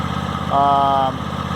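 A John Deere mower engine idles just after a cold start, a steady low mechanical hum running throughout, with a brief louder tonal whine rising over it for about half a second in the middle.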